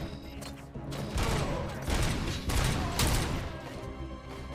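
Gunshots in RoboCop: Rogue City come as several heavy, close bursts of booming fire in quick succession over a dense mechanical din, loud and without a pause for talk.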